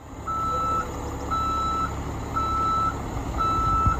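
A bus parked at Acadia National Park on Mount Desert Island sounds a repeating warning beep as it shuts itself off, four even tones at a steady rhythm over a low engine hum, fairly quiet.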